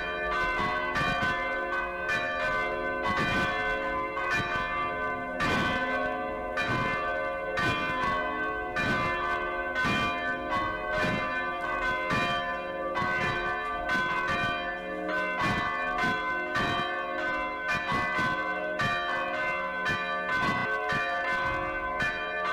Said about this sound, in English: our service begins with the ringing of the Salem bells.